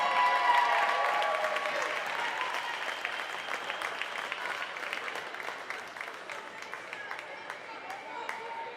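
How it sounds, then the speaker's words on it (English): Applause fills a university gym at a Cedarville volleyball match honouring a senior, sustained clapping from a crowd that starts strong and slowly thins, with an announcer speaking over it. "And one more big round of applause for our 4 seniors and for our wonderful families."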